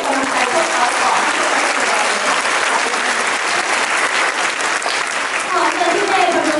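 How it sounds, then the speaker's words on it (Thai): Enthusiastic audience applause at a Sacred Heart Convent school musical in Thailand, loud dense clapping sustained evenly throughout with faint crowd voices mixed in. "ขอเสียงปรบมือให้กำลังใจพวกเขาก่อน"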